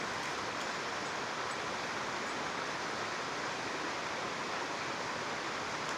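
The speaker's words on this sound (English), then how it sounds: "We got this awesome little creek right here." Small creek flowing steadily outdoors in the early morning dark, a continuous broadband water rush that stays even and unbroken throughout, with no voices.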